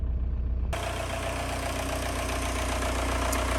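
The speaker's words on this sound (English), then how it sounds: "I don't know if y'all are going to be able to hear me over this little engine" A Volkswagen ALH 1.9-litre TDI diesel engine idles nearby, likely a Mk4, with a steady rhythmic clatter and low rumble. It grows louder and brighter as it opens up about a second in, then runs evenly with no talk.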